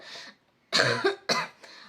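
A few short, sharp coughs from one person close by, separated by brief pauses, in an otherwise quiet room.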